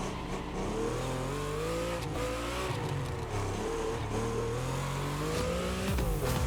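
A custom Ford car in The Crew Motorfest racing game revs loudly and steadily, its engine pitch climbing and dropping through gear changes with a constant roar and no talking.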